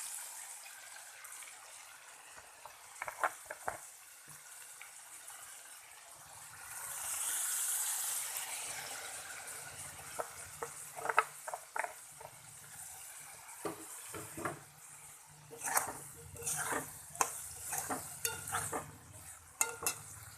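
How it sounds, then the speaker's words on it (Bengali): Water poured into a pan of frying potatoes and neem leaves sends up a brief hissing burst, followed by quieter sizzling and intermittent spatula scrapes and taps against the pan; no speech. "এবার একটু জল দিয়ে দেবো।"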